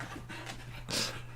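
A dog pants with quick, breathy, rhythmic puffs at close range over a low steady hum, ending in a brief louder huff.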